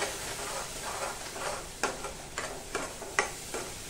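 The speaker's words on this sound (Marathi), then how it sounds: "ही काजूची जी प्युरी आहे ही याच्यामध्ये टाकायची आणि हे छान मस्तपैकी थोड्या वेळ परतून घ्यायचंय आपल्याला" Cashew puree sautéing in butter, a soft steady sizzle broken by light clicks and scrapes of stirring in a regular rhythm, close and quiet with no voices.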